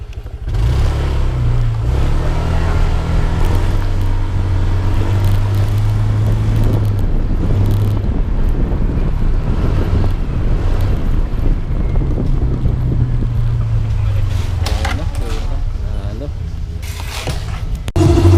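A Honda Click 125i scooter with freshly replaced flyballs on a test ride, its engine drone steady and loud under heavy wind buffeting on the microphone throughout, with occasional revving swells.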